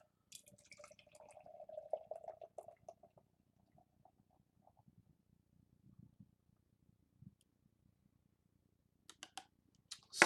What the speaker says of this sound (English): let's give it a crack and a pour and see what we're dealing with